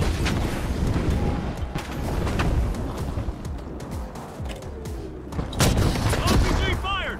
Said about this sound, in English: Bring your fires, bring your nades, start blowing it up.